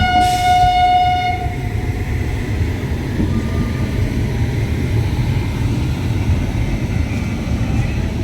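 A train horn blasts briefly at the start, then a heavy, continuous rumble of the Lucknow–Chhapra Express (15053) rolling into a station close by in India.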